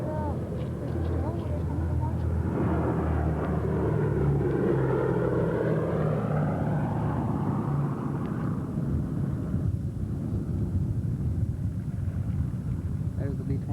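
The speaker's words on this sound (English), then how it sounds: "There's the B-25." A World War II B-25 bomber makes a low pass at an airshow, its engine roar swelling and sweeping past with a falling pitch, then fading into a distant rumble while people talk nearby.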